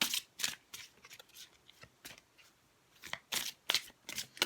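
An Angel Answers oracle card deck is shuffled by hand, giving repeated crisp riffling bursts in an uneven rhythm, close and clear with no talk.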